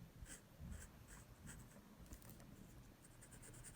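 Fabric pen drawing carefully on cloth, very faint soft scratchy strokes repeating in short bursts, close but quiet under low background hiss.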